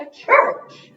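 A pet dog gives one short bark indoors, close by, in the middle of a woman's speech.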